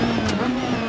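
Peugeot 306 rally car engine in the DiRT 4 racing game, a loud, close, sustained rev with a steady harmonic drone and a slight pitch wobble, alone and brief.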